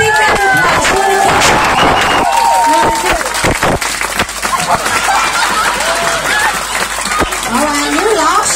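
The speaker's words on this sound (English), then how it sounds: "Come on, give him a big round of applause." An audience applauds and cheers at a live show with a ventriloquist, dense clapping and crowd noise filling the room, steady and close, with shouts and chatter mixed in.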